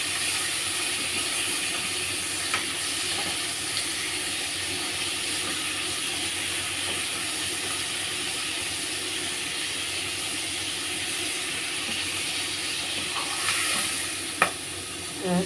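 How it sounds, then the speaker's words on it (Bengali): Prawns frying in oil in a kadai for a malai curry, giving a continuous dense hiss and sizzle throughout with a couple of faint clinks near the end. "একটু ভালো করে ভেজে নেবো মাছগুলো।"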